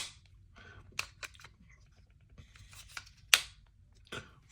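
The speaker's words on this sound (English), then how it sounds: "So going in and out of the sheath, let's take a look here. Ooh, yes. Very satisfying click." A custom fixed-blade knife clicks in and out of its sheath, a few sharp, close, quiet snaps spaced irregularly over soft handling rustle, no voices.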